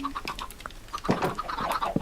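Chickens cluck in the Minecraft video game on a farm, a series of short, moderately loud clucks and squawks scattered irregularly across the moment alongside a few soft game sounds.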